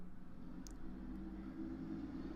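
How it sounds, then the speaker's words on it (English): A heavy truck passes outside a third-floor apartment, a steady low rumble and drone that sounds close despite the height, with no one speaking over it. "And fucking truck. Will you shut up?"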